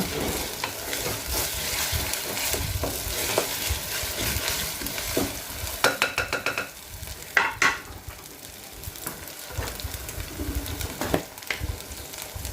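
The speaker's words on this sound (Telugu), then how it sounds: "పచ్చివాసన పోయేదాకా మంచిగా మనం అనేది వేపుకోవాలన్నమాట" Mutton keema sizzles in a clay kadai, a dense, close frying hiss with bursts of stirring and scraping against the pot midway. It runs loud and continuous throughout, with no talk.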